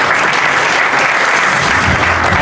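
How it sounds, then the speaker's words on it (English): Dense, steady applause from an audience at a boxing press conference, sustained and loud throughout with no pauses. "Let's give them a big round of applause."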